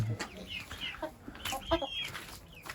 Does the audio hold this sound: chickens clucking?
yes